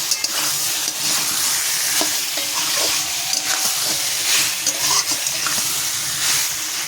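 Masala with a little sugar is sautéed in oil in a pan, giving a continuous close sizzle with repeated scraping and stirring strokes of a spoon against the pan.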